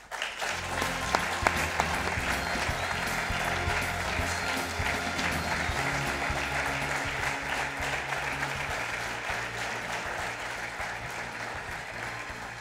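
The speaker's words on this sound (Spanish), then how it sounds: "os pido para ella un fortísimo aplauso" A large party audience gives sustained, dense applause for the new mayor of Irún at a Basque Socialist political event, a steady loud roar of clapping that stays even throughout with no pauses.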